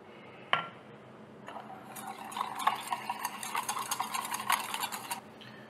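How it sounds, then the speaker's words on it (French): A vinaigrette with olive oil is whisked briskly in a bowl, a quick run of rhythmic metallic clinks and scraping, preceded by a single sharp knock, fairly close and without talk. "Et après, on va la monter comme une vinaigrette normale."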